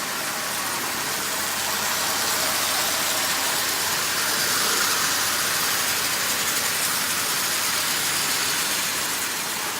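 A prewar Marx Canadian Pacific toy train running at 40% power while hauling 24 tin litho cars gives a steady, close, hissing whir that holds level throughout without any voices.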